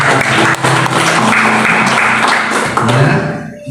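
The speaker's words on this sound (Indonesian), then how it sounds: "berikan tepuk tangan dulu buat Tuhan" A church congregation at an apartment worship service in Jakarta applauding together, a dense sustained clapping that runs throughout, mixed with voices and music underneath.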